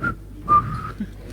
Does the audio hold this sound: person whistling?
yes